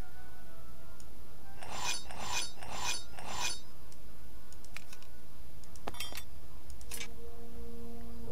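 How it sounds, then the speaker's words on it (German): Scissors being sharpened on a whetstone in a video game, four rhythmic rasping strokes in quick succession followed by a few faint metallic clinks and a brief scrape, with no talking. "Ich muss auch nur eine Seite der Schere schleifen."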